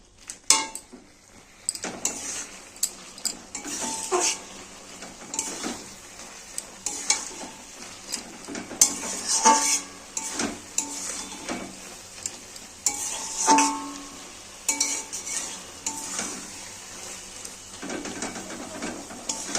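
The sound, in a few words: stirring spinach, potato and bori in a pan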